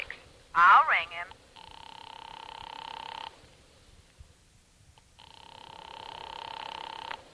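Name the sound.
telephone ringing, video game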